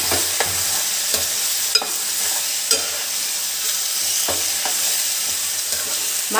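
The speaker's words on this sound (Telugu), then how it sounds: "చికెన్ వేసుకొని ఇలా కలుపుకోవాలి." Chicken pieces frying in a pan while being stirred, a steady loud sizzle broken by regular scraping strokes of a spoon, with no talking.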